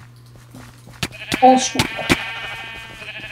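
Sheep bleating in a mini-game, a short run of distinct bleats near the middle of the clip with people talking over and around them.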